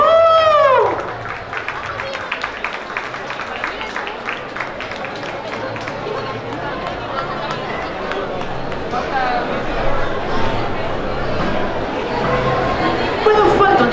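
Audience at a live stage show clapping and cheering, a broad crowd wash that swells and holds steadily throughout, with chatter mixed in.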